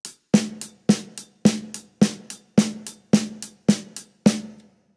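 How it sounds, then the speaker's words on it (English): Hi-hat and snare on a drum kit played at equal force in a groove: a steady, even pattern of crisp hi-hat ticks and punchy snare hits, close and clear, about eight evenly spaced beats with no talking. "you've got to keep the hi-hat and the snare volume at the same volume"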